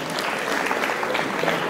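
Dense, steady applause from an audience at a live maskandi music event, many hands clapping loudly and continuously without a break.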